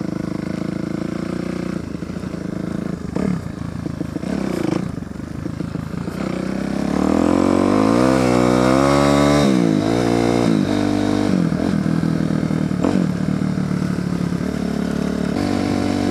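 A Kawasaki KLX250 dirt bike engine idles steadily, then revs up hard with rising and falling pitch, running loud and close throughout with no talking.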